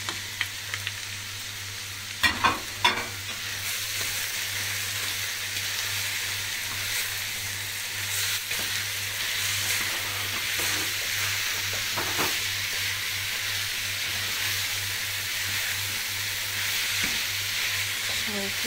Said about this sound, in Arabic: انت بتقلي البصله بس